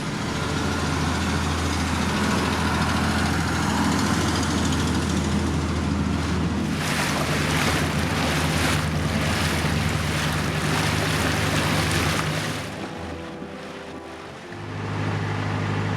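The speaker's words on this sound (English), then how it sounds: "It's a windy one today." Strong wind roars and buffets the microphone continuously over a low narrowboat engine drone and canal water sounds, easing briefly near the end.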